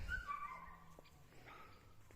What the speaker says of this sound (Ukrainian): Собаки замовчіть.